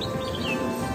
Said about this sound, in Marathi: सगळं नेचर, पक्ष्यांचे आवाज येतात ना.